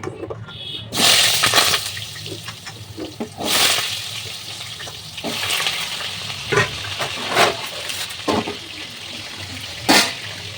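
Potatoes fry in hot mustard oil with a steady sizzle and crackle, broken by occasional clatters and stirring noises close by.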